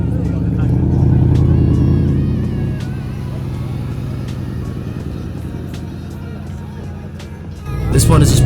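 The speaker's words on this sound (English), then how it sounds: "Arriving next with noise was this Audi R8 V8." An Audi R8 V8 arriving at a cars and coffee supercar meet, a loud close engine rumble that holds steady, eases slightly, then swells again near the end.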